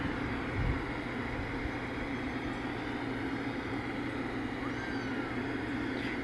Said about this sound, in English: Sorry about the meowing kitten.